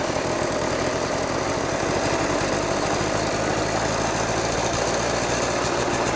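A 1980 Honda Express vintage two-stroke moped engine runs steadily and loudly up close, a dense continuous buzzing rattle with no pauses and no talking over it.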